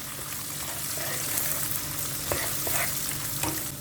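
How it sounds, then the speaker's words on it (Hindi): Cashews and other nuts roasting in a pan for zarda sweet rice give a steady, moderately loud frying sizzle with faint stirring scrapes, and no voices. "ये तमाम चीज़ें आपने बीच में डाल देनी है, और इनको 1 से 2 मिनट के लिए हल्का सा रोस्ट करना है।"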